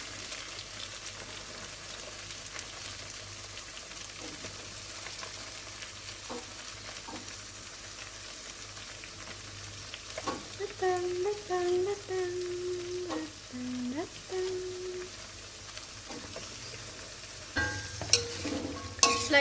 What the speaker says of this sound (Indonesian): Setelah itu diaduk hingga batangnya tuh layu.